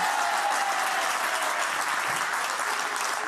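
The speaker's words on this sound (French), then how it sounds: "On peut applaudir, on peut l'applaudir." Studio audience at a French television show breaking into sustained applause, a loud, dense and even roar of many clapping hands that holds steady throughout.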